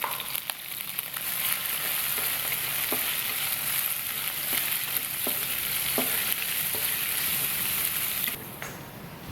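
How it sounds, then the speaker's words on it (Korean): Chili peppers and onion frying in hot oil for tomato sambal, a steady dense sizzle with occasional stirring clicks, close up and alone. "마지막으로 양파를 넣고 볶아줍니다"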